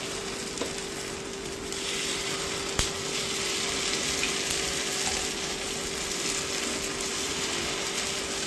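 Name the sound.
batter sizzling in a paniyaram pan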